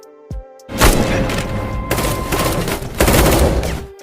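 Dense, loud gunfire in a film shootout between two armed sides, with American soldiers against mafia gunmen: one thump, then sustained rapid automatic bursts with booming impacts that run to the end.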